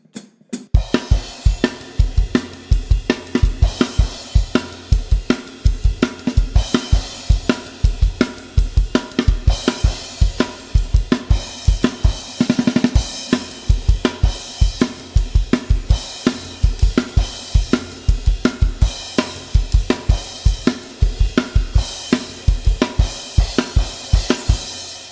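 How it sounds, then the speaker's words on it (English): A full chorus of a song played on a drum kit at normal tempo, a steady driving stream of kick, snare and cymbal hits that stays close and loud, with a brief crash-heavy swell midway. "So the whole chorus at normal tempo would sound like this."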